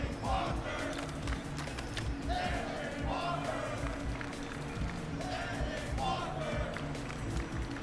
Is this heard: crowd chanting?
yes